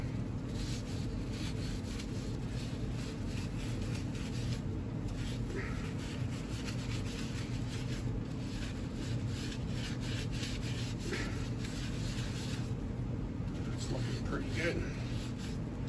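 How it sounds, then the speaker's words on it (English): Brass wire brush scrubbing around the inside of a part, a steady gritty rubbing and rasping that continues without pause at moderate volume, with faint background noise throughout. "with the brass brush. Give it a full roundabout inside."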